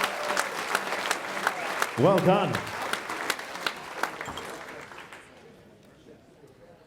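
Applause at a Fight For Life Education Trust charity boxing event in 2018, a crowd clapping warmly for boxer Will McGrady, with a brief cheer and voices, then tapering off to quiet.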